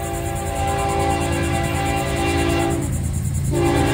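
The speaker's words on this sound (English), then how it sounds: "We got FEC 105 coming here south." A Florida East Coast Railway freight, FEC 105, runs south past milepost 112, its horn blaring loud and close as a sustained chord that breaks off briefly near the end before resuming over the rumble of the train.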